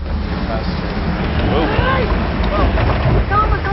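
A motorboat engine drones steadily on an Amazon Basin river, its low rumble mixed with buffeting wind noise against the microphone.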